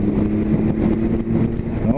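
Triumph Tiger 1200 Alpine Edition motorcycle engine running steadily, a continuous close low drone with a constant loudness throughout.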